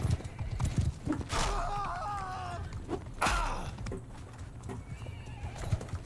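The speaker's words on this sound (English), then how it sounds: "Yeah, this horse is far, far too slow." A horse in Mount and Blade: Bannerlord gallops with rapid, close hoofbeats and lets out a loud, drawn-out whinny early on, followed by a second sharp neigh, amid continuing hoof thuds.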